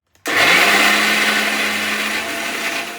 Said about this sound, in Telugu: ఈ ఫ్రెష్ పచ్చి బఠానీని మిక్సీలో వేసుకుందాం